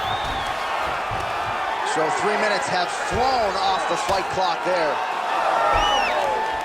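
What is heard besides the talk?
crowd cheering in UFC video game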